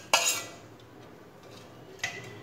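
A spoon scrapes and clinks against a bowl while roasted cashews are stirred into mung dal flour and sugar, giving two short metallic taps with soft rustling in between.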